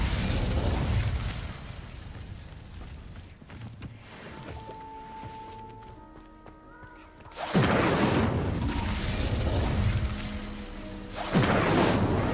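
An Incendio fire spell cast in Hogwarts Legacy, heavy roaring fiery bursts with crashing impacts, a quieter stretch with tonal game sounds in the middle, then loud whooshing blasts returning.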